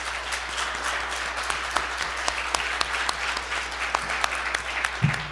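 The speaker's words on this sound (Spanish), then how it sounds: "Un aplauso, por favor." Sustained audience applause at a literary anthology award presentation during a book fair, a steady patter of many hands with some distinct nearby claps standing out, over a low constant hum.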